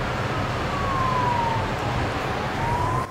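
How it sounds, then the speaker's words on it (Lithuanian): A police car siren wails in a slow rising and falling tone, moderately distant over steady traffic rumble, sweeping down once and then beginning to rise again. "Šiaip kap išgirsti sirens"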